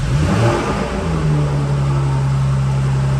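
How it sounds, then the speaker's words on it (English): A Jaguar F-Type V6 S convertible engine fires up and revs loudly, then settles into a steady, throaty idle with a low, constant hum, close by and with no talking. "we're listening now to that glorious sound of the F-Type V6"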